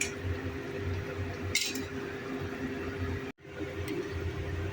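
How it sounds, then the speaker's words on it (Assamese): Jaggery being stirred into a dish in a pan, with soft squishing and scraping against the pan over a steady kitchen hum, plus a brief clink and a momentary drop to silence. "এতিয়া গুড়ৰ লগত মই এইখিনি ভালদৰে বনাই ল'ম।"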